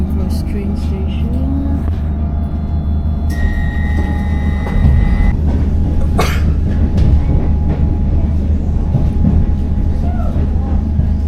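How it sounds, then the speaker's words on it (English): Train pulling into Southern Cross station in Melbourne, a steady loud low rumble with brief squeals and tonal hums near the middle; a voice is heard faintly. "We are arriving at the Southern Cross train station."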